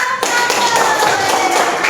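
Students in a classroom clap for a group of classmates with a dense, close patter of hand claps that starts sharply after a brief pause and keeps a steady level.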